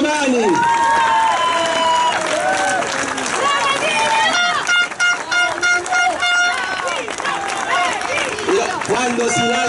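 Outdoor crowd at a mayoral candidate's public political rally in Italy, clapping and cheering loudly under music with melodic tones, the applause swelling and dipping with voices mixed in.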